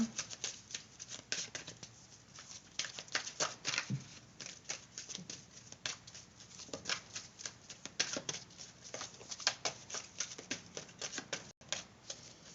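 Tarot cards shuffled in quick, close riffles and soft flicks, a run of short crisp bursts with brief pauses, fairly quiet throughout.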